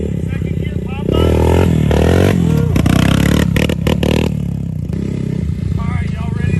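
A Suzuki LTZ 250 quad with its exhaust baffle removed revs hard and close, a loud, raspy engine note climbing and falling through surging bursts before easing back to a rougher idle.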